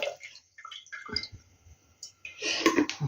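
Water is poured from one glass jar into a one-litre jar during tomato pickling at home, with bursty splashing and gurgling that stops and starts and grows louder near the end.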